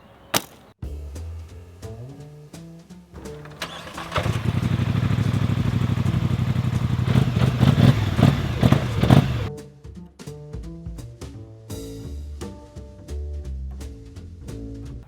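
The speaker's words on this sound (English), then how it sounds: "I'm gonna get the four-wheeler because that's fun." A four-wheeler ATV on a hillside farm starts up with a few clattering mechanical knocks, then its engine revs and runs loudly for several seconds before dropping back to idle, with bursts of rattling around it.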